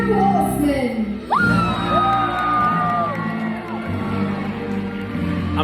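A Medieval Times arena crowd yells and whoops in cheer for a horseman, loud and sustained, with a rising shout cutting through the steady roar of the audience.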